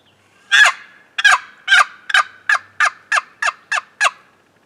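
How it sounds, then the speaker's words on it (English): A series of about ten loud, raspy turkey hen 'come here now' yelps made on a box call, evenly spaced and slightly quickening, alone against silence. "Another one is the hen come here now call."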